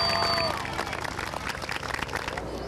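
A room of people at an elementary school event applauds Mr. Webb, a brief burst of crowd clapping that gradually thins out, with a short musical tone sounding at the start.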